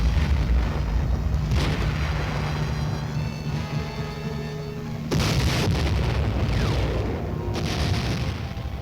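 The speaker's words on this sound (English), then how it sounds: "barrage of rockets." Armed Choctaw helicopters acting as flying gun platforms loose a barrage of rockets, heard as a loud continuous roar with heavy booming blasts and sharp bursts, a big impact near the five-second mark and another near seven and a half.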